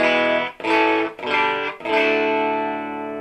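An electric guitar plays through a PRS SE50 amp with the mids boosted and slight distortion: three loud, harmonically rich strummed chords separated by brief gaps, the last left ringing and slowly fading.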